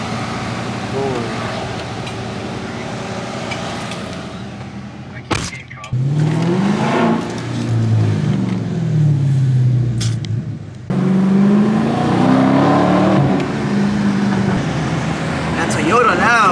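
Dodge Charger Scat Pack V8 on a late-night Miami drive, engine note climbing and falling through two strong acceleration pulls with gear changes, loud and close from inside the cabin, with a short thump between runs.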